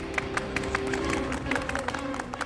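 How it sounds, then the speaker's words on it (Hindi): A group of people claps together in a room, a steady, moderately loud patter of overlapping hand claps with a faint background hum and occasional sharper individual claps. "सब लोग तालियां बजाओ"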